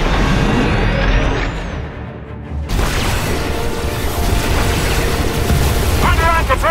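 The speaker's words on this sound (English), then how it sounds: "Defensive cannons activated. I'm targeting the Republic ships now." Defensive cannons in a Star Wars game blasting at Republic ships, booming explosive shots with a laser-like sweep, a brief lull, then continuous heavy rumbling fire and crackling bursts, loud throughout.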